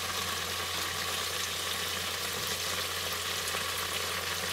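Battered chicken pieces frying in hot oil at home, a steady, dense sizzle and crackle that holds evenly from start to finish with no pauses.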